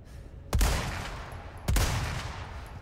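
Two loud gunshots fired in the Resident Evil 4 Remake video game, spaced about a second apart, each a sharp blast that leaves a rumbling reverberant tail.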